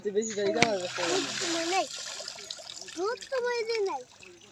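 Small fish are washed by hand in water, giving brief splashes and trickling, with people talking over it throughout.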